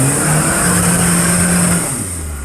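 An off-road car accelerates hard through deep mud at a competition-style event in Iasi, its loud engine revving steadily close by, then the pitch drops near the end.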